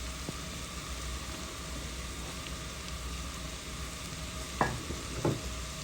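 Food for a potato and papaya vegetable fry sizzles steadily in a pan, with a constant hiss and a few sharp stirring scrapes near the end, heard close and without speech.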